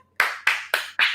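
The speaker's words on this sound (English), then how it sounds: "claps, right?" Four sharp hand claps ring out in a steady, slightly uneven rhythm, loud and close, each with a brief decaying tail and no talking in between.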